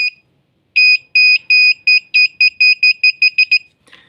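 An Arduino-driven buzzer wired to 5 volts sounds a shrill, loud electronic tone, first as a few longer beeps and then as a faster series of about a dozen short, evenly spaced beeps, with no one talking.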